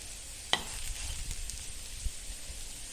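Raw papaya cutlets roast in a pan with a soft, steady sizzle, broken by a sharp clack of a utensil near the start and a faint knock later; no one speaks.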